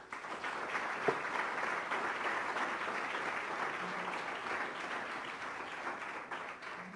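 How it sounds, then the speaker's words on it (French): A crowd at an annual sports-study scholarship award ceremony applauds a recipient, a steady, moderately distant wash of clapping that continues alone throughout. "Applaudissons Jean-François Leblanc."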